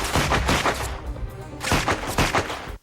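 Movie gunfire sound effect: loud, rapid bursts of shots in two close volleys separated by a brief lull, ending abruptly.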